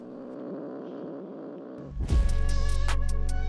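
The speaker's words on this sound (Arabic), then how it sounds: "يوجد الكثير من القطط" Cats on a Japanese street where many strays roam, with soft purring early on and then a louder, sustained purr or rumble close by in the second half.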